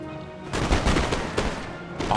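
A musket volley from skirmishers in the video game Empire: Total War, heard as a cluster of overlapping gunshots that crackle on for over a second, loud and close, with no voices.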